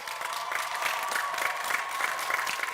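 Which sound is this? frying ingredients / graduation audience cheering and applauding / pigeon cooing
graduation audience cheering and applauding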